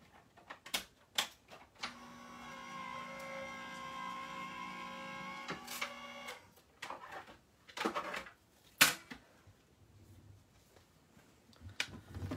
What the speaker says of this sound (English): I'm running it through a Vagabond, an electronic machine by Sizzix.